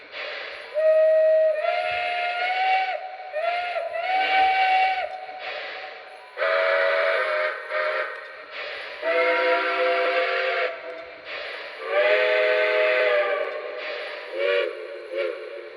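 A Lionel Pennsylvania Railroad Camelback model locomotive cycles through several steam whistle tones, a series of short and long harmonic blasts with changing pitch and hissing steam, loud and close with no voices.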